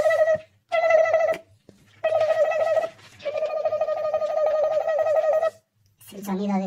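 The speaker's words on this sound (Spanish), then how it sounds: "Sonido de su sirena." Siren Head's siren sound effect plays as a series of loud, wavering tonal blasts separated by brief silences, ending in a lower, rougher burst.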